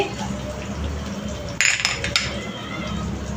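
Chopped onion tipped into hot oil in a pan, a steady frying sizzle with a brief clatter of utensils against the pan partway through, under a voice talking.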